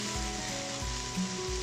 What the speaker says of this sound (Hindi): चिकन को हम 2 से 3 मिनट के लिए फ्राई कर लेंगे